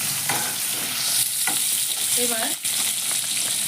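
Potatoes with a pinch of salt sizzle steadily in a hot pan, a continuous broadband hiss broken by occasional stirring scrapes; a voice briefly speaks once partway through.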